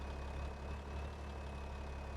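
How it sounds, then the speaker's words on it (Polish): A combine harvester engine runs at rapeseed harvest time with a steady low rumble and a constant hum, loud and unbroken throughout with no talk. "Silnik chodzi, wszystko działa, dobra."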